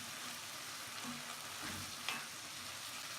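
Chicken cooking with ground almonds in a pan for a tangy khatti chicken, giving off a soft, steady sizzle with a faint stirring scrape partway through.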